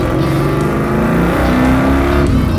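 Pontiac Firebird project car driven hard: a loud, continuous engine roar with rising and falling revs heard from inside or close by, and no talking.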